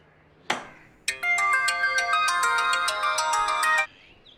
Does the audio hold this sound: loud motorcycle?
no